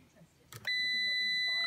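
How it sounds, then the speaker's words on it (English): A continuity tester on the line conductor of a ring circuit gives a sudden steady electronic beep that holds to the end, right after a short clatter of the probes. "it's set to beep at anything less than 10 ohms at the moment"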